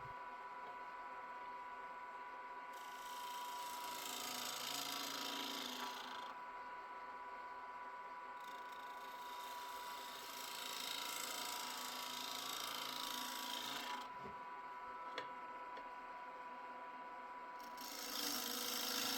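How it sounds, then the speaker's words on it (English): A 1/2 inch bowl gouge cuts the inside of a rough turned wooden bowl on a lathe, giving a steady, close scraping rasp that swells and fades in several long passes over a constant machine hum. "On to the inside, using a 1/2 inch bowl gouge."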